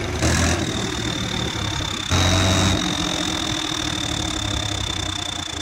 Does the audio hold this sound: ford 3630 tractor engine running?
yes